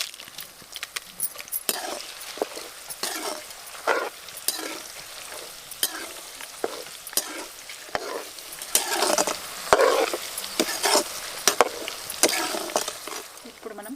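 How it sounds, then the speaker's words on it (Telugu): Green and dry chillies fry in oil for tamarind pulihora, giving a continuous sizzle broken by repeated scraping stir strokes in an uneven rhythm, close and fairly loud. "ఇప్పుడు మనం పచ్చిమిర్చి వేసుకుందాం ఇప్పుడు మనం దీంట్లో ఎండుమిర్చి కూడా వేసుకుందాం"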